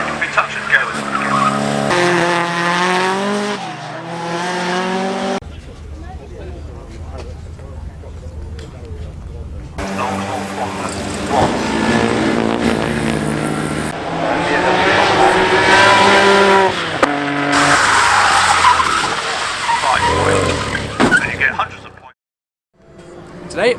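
Citroen 2CV race cars at Oulton Park rev and squeal their tires through corners at the Autos de France 2023 meet, with engine drones rising and falling, bursts of skidding, and spells of commentary in between.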